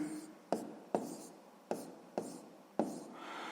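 Pen or pencil strokes on paper while working a sixth-grade math exercise, five sharp taps spaced unevenly over a few seconds with soft scratching between them, close and fairly quiet.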